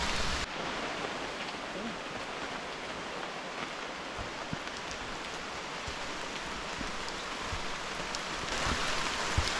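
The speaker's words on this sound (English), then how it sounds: "It is really pouring on us." Heavy rain pours steadily through a damp rainforest near La Fortuna and Arenal Volcano in Costa Rica, a dense, constant hiss of drops on leaves and ground that stays loud throughout with no voices.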